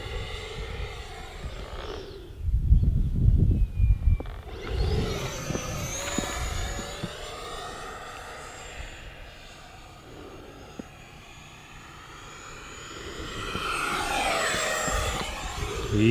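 A Marlin RC plane, a sporty model aircraft, flies overhead outdoors. Its motor whine swells loud, eases off as the plane moves away, then builds again on another close pass.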